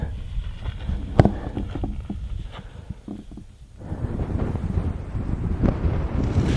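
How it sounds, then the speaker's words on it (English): Strong wind blasts a microphone beside a cold, snowy main highway in Mongolia, heavy and gusting low rumble throughout, easing briefly then rising again. "It's very windy still."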